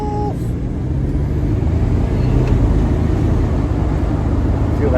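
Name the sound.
turbo spooling on a 1987 Buick Grand National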